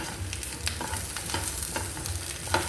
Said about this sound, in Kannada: ಇದರೊಟ್ಟಿಗೆ ಹಾಕಿ ಫ್ರೈ ಮಾಡ್ಕೊಳ್ತಾ ಇದ್ದಾನೆ